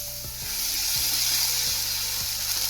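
Spice paste ground with a few cashews hits hot oil already holding whole cumin, giving a steady, bright sizzle with faint stirring clicks of a utensil against the pan, close up and continuous.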